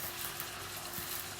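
Teriyaki sauce hits chicken cooking in a pan, giving a steady, close, broadband sizzle with no talking.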